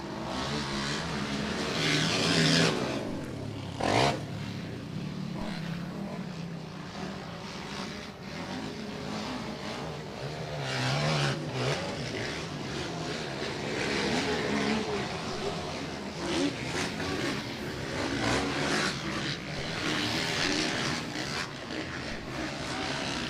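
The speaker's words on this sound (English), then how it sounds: "An angry quartet of quad bikes come down into the pit." Four quad bikes race in a senior motocross moto with legends quads, engines revving and roaring loudly and continuously as they come down into the pit, with a commentator's voice over the din.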